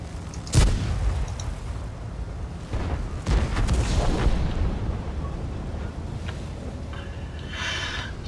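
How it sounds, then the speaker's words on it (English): Two heavy cannon shots from a Kanonenjagdpanzer tank destroyer in World of Tanks, a loud booming blast followed by a second rumbling report amid continuous engine and battle noise. "Two shots, two misses."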